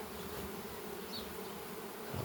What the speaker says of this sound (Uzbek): Asalarilar yaxshi kayfiyatda uchib ishlayapti